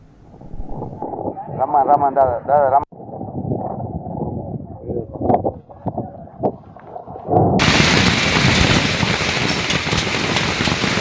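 Heavy hailstorm in Kamareddy district, Telangana, with hailstones and rain pounding down as a loud, dense, steady roar that rises sharply partway through, following a stretch of talk and background noise.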